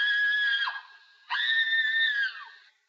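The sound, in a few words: woman screaming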